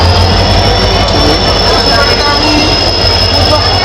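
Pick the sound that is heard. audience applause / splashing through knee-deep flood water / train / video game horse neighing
train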